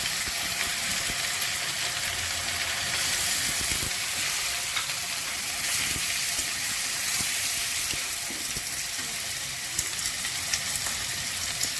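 Onion, ginger and garlic fry in a pan after potatoes have browned, giving a steady close hiss of sizzling oil with faint stirring scrapes throughout, no voices.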